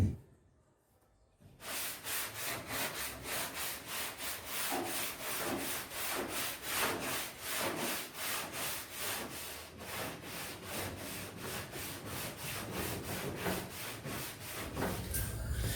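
Car body filler is hand-sanded with a sanding block in rapid, rhythmic back-and-forth rasping strokes, close and loud, continuing steadily for many seconds after a brief quiet start.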